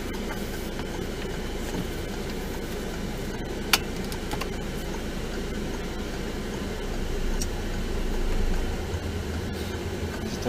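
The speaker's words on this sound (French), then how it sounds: "Donc le moteur est déjà en route, parfait." A small grey Renault car idles with its engine running, giving a steady low hum heard from inside. The hum swells slightly toward the end, with one brief tick partway through.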